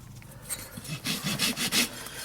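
A farrier rasps the hoof of an event horse being shod, with about five short, close, rough strokes in quick succession.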